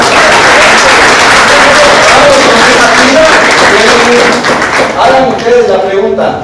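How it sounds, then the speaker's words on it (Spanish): A class of students applauds loudly, a dense roar of clapping that holds steady and then thins out toward the end, with a voice speaking faintly over the tail. "Muy bien, un aplauso."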